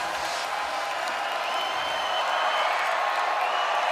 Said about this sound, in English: Houston crowd trying to come to life on third down.